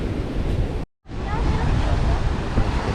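Ocean surf breaks on a Sri Lankan beach, a loud continuous wash of waves with wind buffeting the microphone and a brief dropout near the start.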